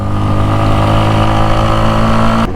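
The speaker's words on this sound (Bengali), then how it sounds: "ইঞ্জিনে কিন্তু প্রচুর প্রেশার পড়তেছে এই যে সাউন্ডটা শুনতে পাচ্ছেন একটু শোনেন" A motorcycle carrying a pillion passenger labours up a steep new road near Sajek, the engine droning loud and steady and close at hand, then cutting off abruptly at the end.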